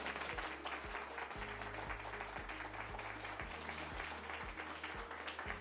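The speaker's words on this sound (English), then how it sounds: "Give them a round of applause." A small podcast studio audience applauds the guests with continuous, quiet clapping, and a low, stepping electronic tone runs underneath.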